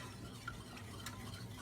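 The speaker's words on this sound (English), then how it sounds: "so you have to keep stirring" Food is stirred in a cooking pot, a soft scraping over a low simmering sizzle, quiet and continuous with a few faint clicks.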